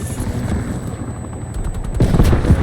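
Video game helicopter hovering with a steady rotor drone, joined by bursts of gunfire and booms that grow louder toward the end.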